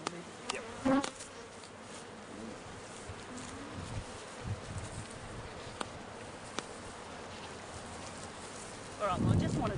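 Honeybees hum and buzz steadily from an opened hive brood box during a beekeeping field day, a continuous mid-level drone with a few louder bursts near the start and end; a voice speaks briefly in the background.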